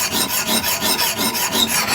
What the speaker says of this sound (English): you can go back to the stone and set that quickly and sharpen them